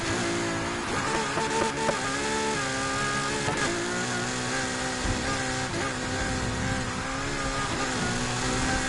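A Ferrari engine in Need for Speed Heat drones steadily at high revs, a continuous loud harmonic whine with slight pitch shifts and no pauses, heard alone.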